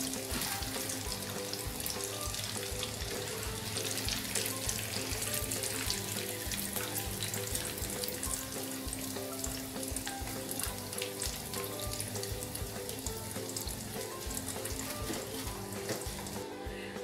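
Prawns marinated with garlic and milk fry in hot oil with a steady, dense sizzle and crackle that never lets up, heard close with faint clinks from stirring and no talking.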